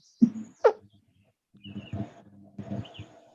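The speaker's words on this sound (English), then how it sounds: "You hear them fucking birds though, don't you?" Several short, sharp bird calls ring out close by, then softer, lower cooing or chattering calls follow in a loose cluster.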